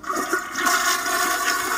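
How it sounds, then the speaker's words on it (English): A toilet flushes nearby with a rushing, gurgling swirl of water that holds steady for a couple of seconds, heard alone with no voices. "I heard a toilet flush"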